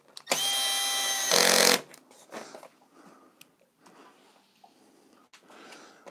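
A power tool whirs loudly for about a second and a half, then rises in pitch briefly as screws are tightened on a BMW R1250GSA motorcycle, followed by quieter handling clatter and breathing.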